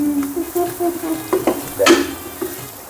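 Green chillies frying in oil in a pan for bachelor-style fried rice, a close crackling sizzle with a few stirring scrapes and pops over nearly three seconds.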